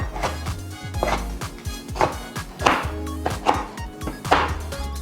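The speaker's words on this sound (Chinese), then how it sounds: "梅乾菜洗乾淨，擠乾水分，來切碎" A knife chops washed, squeezed-dry mustard greens (mei gan cai) on a board in steady, close, fairly loud strikes, about two per second, with no voices.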